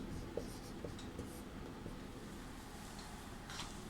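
Chalk or marker scratches across a board during a Sanskrit lesson, faint strokes and light taps repeating unevenly under a hushed room hiss for a few seconds.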